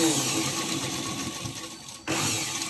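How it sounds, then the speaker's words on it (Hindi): A sewing machine stitches a petticoat with a steady, close whirring run, briefly stopping near the end before starting again. "तो आइए सिलाई करते हैं।"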